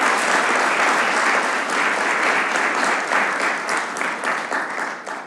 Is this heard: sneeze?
no